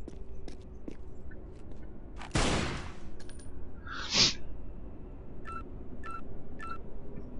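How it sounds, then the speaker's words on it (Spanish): Gunshot blasts in Tomb Raider Anniversary aimed at a painting target, one loud broadband burst followed by a second sharper crack, then a few short clicky chirps in a quiet game room. "Entonces hay que ir a dispararle acá"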